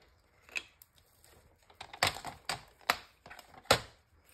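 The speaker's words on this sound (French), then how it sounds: "Donc on va commencer par découper tout ça. Je prends mon massicot." A paper trimmer slicing scrapbooking paper and card, a series of sharp, close clicks and crisp cuts at irregular intervals with soft rustling between them.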